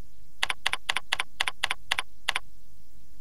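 Keys clatter on a computer keyboard in a run of about eight quick, evenly spaced double clicks close to the microphone, ending with one more after a short pause, with no talking.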